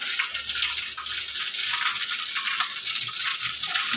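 Pot of water heating toward a boil for mushroom soup on a home stove, a steady bright hiss and bubbling sizzle, continuous and fairly close, with no talk.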